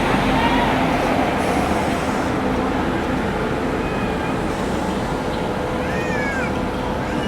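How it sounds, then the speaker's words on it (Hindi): Lucknow Swarna Shatabdi Express hauled by a WP7 locomotive arriving at a station, a dense continuous rumble and clatter with squealing wheel tones, close and loud, with talk and platform noise mixed in. "हावड़ा सर्किट WP7 के साथ यहाँ पर अपनी लखनऊ 16 शताब्दी एक्सप्रेस आ चुकी है।"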